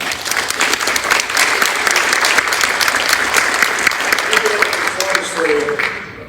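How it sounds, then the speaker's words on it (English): Applause from the audience at a school board meeting honoring students, dense clapping from many people filling the room loudly and steadily, with a brief voice near the end. "So let's give them a round of applause."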